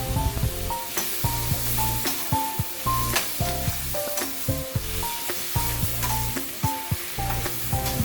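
Chopped tomato and onion being stirred in a pan for egg bhurji, with a steady sizzle under repeated scraping strokes of a spoon, close and fairly loud throughout with no talking.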